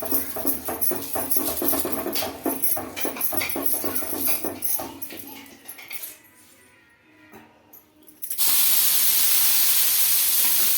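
Water sprinkled onto a hot, oiled dosa pan sets off a sudden, loud, continuous hiss that lasts several seconds, after a stretch of clinking and clattering at the stove.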